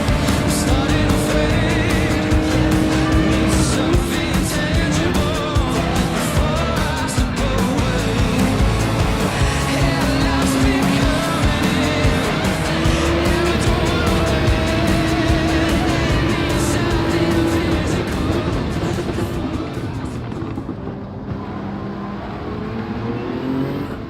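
Race cars in the Gran Turismo 7 video game roar continuously with engines revving and shifting through gears, loud and sustained throughout, fading slightly near the end, with no voices.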